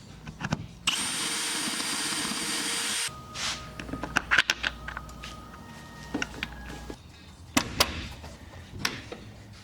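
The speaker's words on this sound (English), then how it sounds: "I will have to drill the hole just a tad bit bigger" A power drill enlarging a hole for a switch on an old Ford hot rod, one sustained whine of about two seconds followed by scattered clicks and handling knocks, with no talk.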